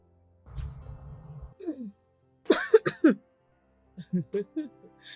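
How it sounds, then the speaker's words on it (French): Several short, harsh coughs burst out in a cluster, followed by a few more spaced coughs, close and moderately loud, with a brief noisy stretch at the start. "Pourquoi je tousse beaucoup?"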